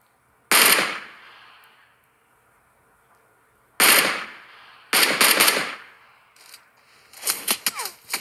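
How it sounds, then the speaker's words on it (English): Gunfire from a player shooting in a mobile battle game: sharp loud bursts in short separated volleys, with quiet gaps between them and a quicker rattling string of shots at the end. "I'm just shooting here and there because I'm trying to lure them a little bit"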